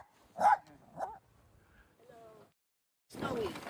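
A dog barks a few times outdoors on a snowy winter day, the barks fairly close and separated by short pauses, with a louder burst of noise at the end.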